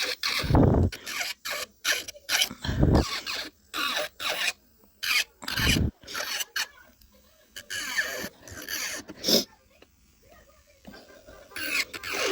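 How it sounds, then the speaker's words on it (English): A nail file rasps on sculpted acrylic nails in short, close, scratchy strokes with uneven rhythm, separated by brief pauses. "all I have left is to file them"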